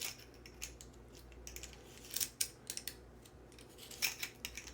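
Faucet nut and washer tightened by hand under a bathroom vanity sink, heard as a few faint, scattered metallic clicks and scrapes over a quiet room hush.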